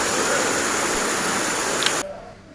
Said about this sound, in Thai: เพราะว่ามัน เป็นตรงที่น้ำตกไหลลงมานะครับ